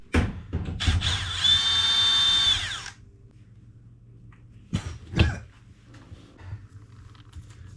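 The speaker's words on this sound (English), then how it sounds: "So we'll undo these two screws and slide that out." Power drill whirs for about two seconds while backing out screws on an oven, a steady close high-pitched spin, followed by quieter scuffs and a couple of sharp knocks.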